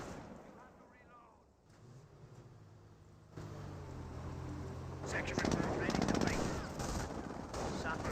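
Gunfire from a Company of Heroes match, with a sniper firing on a US rifle squad under attack, a rattling burst of shots building to dense volleys in the second half while a commentator talks over the battle.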